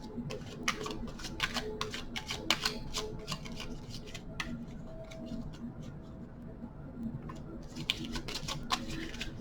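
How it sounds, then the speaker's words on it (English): Tarot cards are shuffled in quick bursts of soft, rapid flicking and riffling, close by and fairly quiet, with a short pause in the middle. "Cards are always pre-shuffled, just doing a few quickly here."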